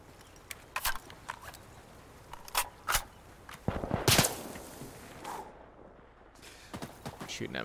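Gunfire in the tactical shooter Insurgency: Sandstorm during close-quarters room clearing, with several sharp bursts and single shots from nearby and mid-distance, mixed with footsteps and game ambience, and voices talking between shots.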